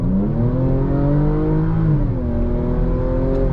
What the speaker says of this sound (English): Try some of this engine performance.